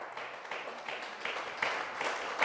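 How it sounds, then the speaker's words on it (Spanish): Church congregation applauding during a sermon, a dense, continuous roomful of clapping heard at moderate distance with a faint voice underneath. "dele fuerte el aplauso a Él"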